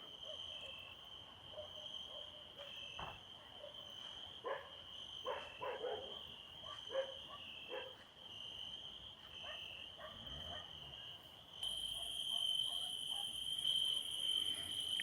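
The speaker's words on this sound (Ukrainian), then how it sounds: "Ох, і цвіркуни." Crickets chirp steadily on a Ukrainian night, a constant high trill with scattered croaks and a faint distant dog bark; no one speaks.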